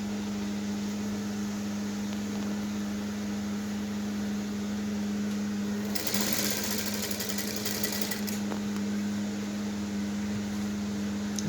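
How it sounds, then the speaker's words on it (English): A sewing machine runs continuously while top-stitching a one-side off-shoulder peplum blouse, a steady mechanical whirr with a constant hum and a brief burst of louder rattling midway. "We are going to keep sewing it up."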